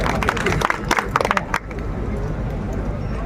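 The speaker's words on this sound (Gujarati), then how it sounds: "એને તાળીઓથી વધાવવું પડે" Applause from an audience greeting a guest at a community social gathering, a dense burst of many hands clapping for about a second and a half before it fades into a steady crowd murmur.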